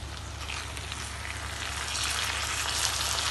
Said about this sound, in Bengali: এবার আমি হালকা নাড়িয়ে নেব